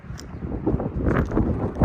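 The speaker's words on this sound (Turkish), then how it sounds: "Hava çok rüzgarlı." Gusty wind buffets the microphone in uneven, rumbling bursts, loud and close.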